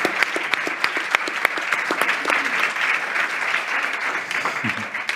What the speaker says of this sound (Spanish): vamos a aplaudirlo, por favor